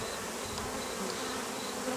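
Steady, dense buzzing of many honeybees in a full log hive, close and continuous, with no voices.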